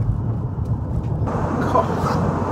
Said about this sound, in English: an extremely powerful, normally aspirated engine